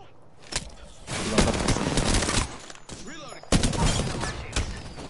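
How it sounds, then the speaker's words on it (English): Enemy gunfire in a video game rings out in repeated bursts of rapid automatic shots and single cracks, loud and close, with a player talking between and over the shooting. "They're shooting at me?"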